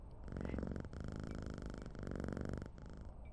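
A cat purrs in the Quarantine Zone video game, a close, steady rumbling purr in rhythmic pulses that carries without a break, with no talking over it.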